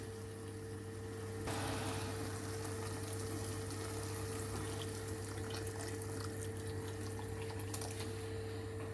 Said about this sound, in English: add water enough to cover your chickpeas and potatoes